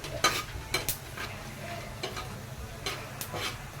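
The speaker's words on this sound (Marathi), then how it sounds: "हा जो गरम मसाला आहे तो पण छान भाजून घेते मी तेलामध्ये" Garam masala spices roast in oil in a pan, mace, black pepper, cardamom, cloves and cinnamon, giving a faint sizzle broken by a few clinks of a stirring spoon.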